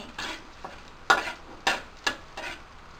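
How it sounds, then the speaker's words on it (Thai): Hissing sizzle of garlic frying in hot oil, with a few sharper bursts as it is stirred around the pan. "ใส่กระเทียมลงไป ในกระทะน้ำมันที่เราเตรียมไว้แล้ว"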